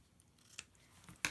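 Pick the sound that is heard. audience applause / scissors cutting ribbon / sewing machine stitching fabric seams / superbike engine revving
scissors cutting ribbon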